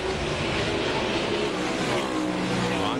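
NASCAR Winston Cup race cars roar through a restart at Watkins Glen, a dense, loud wash of engine noise from many cars at once with overlapping rising and falling pitches, heard continuously from trackside.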